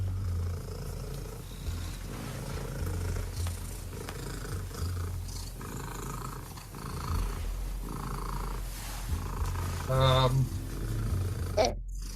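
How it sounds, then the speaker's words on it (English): A domestic cat purrs loudly and continuously during an official loudest-purr attempt, a close, rumbling drone that runs throughout with brief background sounds and a short sharper noise near the end. "This is an official attempt for the loudest purr by a domestic cat"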